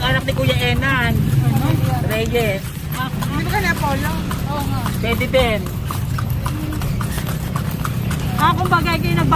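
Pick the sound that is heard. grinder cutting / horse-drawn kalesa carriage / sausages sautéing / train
horse-drawn kalesa carriage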